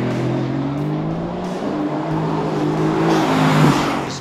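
A Mercedes-Benz AMG GT S on the Laguna Seca track gives a loud, sustained engine drone. Its pitch climbs and dips with throttle as the car works through corners, heard close with no voices.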